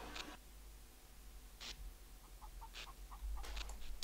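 A chicken in the game Trouble in Terrorist Town clucks in a few short, soft bursts, followed by a run of quick, faint clucks over a low background hum.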